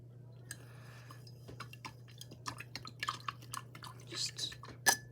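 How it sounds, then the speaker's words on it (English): A small paintbrush gets rinsed in a cup of water, giving soft, faint drips and taps over a steady low electrical hum. "Let me wash it off."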